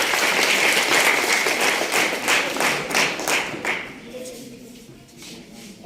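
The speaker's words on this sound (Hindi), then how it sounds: "एक बार जोरदार तालियां सबके" Audience applauds at a book launch ceremony in a government higher secondary school courtyard, welcoming the event's chairman; dense clapping runs loud for about four seconds, then fades and thins out with background voices.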